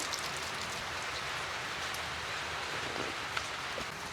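Nonstop monsoon rain pouring down, a steady hiss with scattered drops pattering on surfaces, fairly quiet and with no voices.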